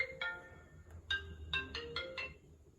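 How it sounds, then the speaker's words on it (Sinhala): A phone rings with an incoming call, a short melodic ringtone of repeated bright tone bursts in a rising-falling pattern, fairly faint over a low background hum with no talking. "මේ අපට කෝල් එකක්"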